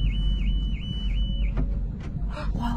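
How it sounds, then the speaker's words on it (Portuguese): Car alarm beeping: a warbling electronic siren repeats in steady waves, then cuts off and gives way to a few short chirps and thumps over a low background rumble. "O alarme do carro apitou."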